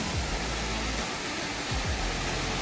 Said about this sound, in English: Only a small waterfall, no more than 3 or 4 metres high, but it's quite nice.